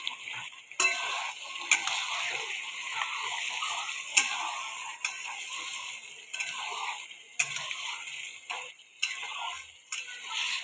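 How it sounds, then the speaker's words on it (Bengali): Mutton sautés in a pan over a high flame, a steady hiss and sizzle punctuated by sharp clicks and knocks of stirring, close and fairly loud, no voices. "এইবার গ্যাসটা বাড়িয়ে দিয়ে মাংসটা ভালো করে কষে নেব।"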